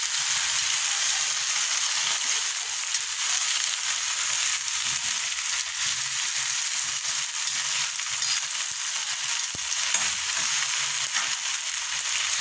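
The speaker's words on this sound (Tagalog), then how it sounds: "Pinrito kong talbos ng kamote." Sweet potato tops fry in a pan with a steady, close hiss and crackle of hot oil that runs on without a break and with no talking.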